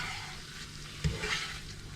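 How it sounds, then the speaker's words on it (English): Wine and mushrooms sizzle steadily in a hot pan as they cook down, a close, soft frying hiss with a brief stirring knock partway through. "I'm going to let the wine cook down just a little bit."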